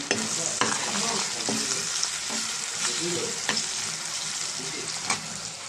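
Onions with salt and turmeric frying in a pan, a dense continuous close sizzle with occasional light spoon scrapes and clicks, steady in level throughout, no talking.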